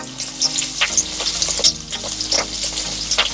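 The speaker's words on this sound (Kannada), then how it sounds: "ಬೆಳ್ಳುಳ್ಳಿ, ಶುಂಠಿ ಹಾಕಿ ಚೆನ್ನಾಗಿ ಫ್ರೈ ಮಾಡ್ಕೊಳ್ತಾ ಇದ್ದೇನೆ" Onion, tomato, garlic and ginger sizzle and fry in hot coconut oil for a Mangalore-style chicken dish, a steady close crackle with occasional stirring scrapes and no voices.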